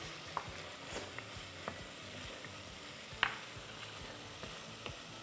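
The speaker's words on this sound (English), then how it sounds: "To this, I'm going to add some jeera or cumin" Cumin seeds (jeera) sizzling in a hot pan while cooking palak paneer and jeera rice, a steady soft hiss with scattered faint pops and crackles throughout, no voices.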